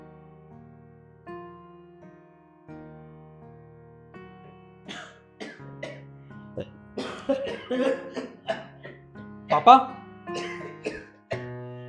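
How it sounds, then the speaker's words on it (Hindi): Quiet music plays at first, then a person coughs repeatedly in harsh bursts, near and fairly loud, with a word spoken among the coughs. "पापा को खांसी हो रही है"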